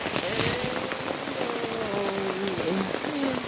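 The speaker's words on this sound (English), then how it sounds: "we're having a little rain." Steady soft patter of light rain on a surface on the Algonquin Western Uplands Trail, a continuous hiss with scattered drops, no voices.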